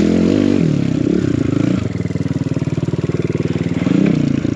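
A four-stroke enduro motorcycle rides through snow, its engine a loud, close, steady throbbing drone that revs and rises in pitch near the end, mixed with clattering and scraping.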